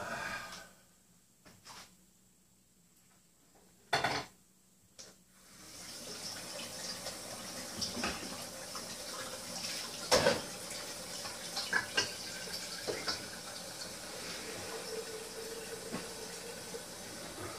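Water runs from a kitchen tap into a coffee pot with a steady hiss, preceded by a few clunks and knocks, with occasional clatters of the pot as it fills.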